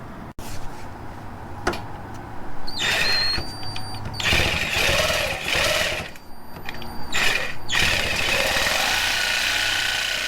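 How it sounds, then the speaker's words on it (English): Sawzall reciprocating saw cutting off metal bump stop cups on a Dodge Dakota or Durango, a loud, continuous buzzing rasp with pitch shifts as the blade bites, briefly pausing and resuming, close up and without talk. "you can use a combination of, like you see me using here, is a Sawzall, and I also use a angle grinder"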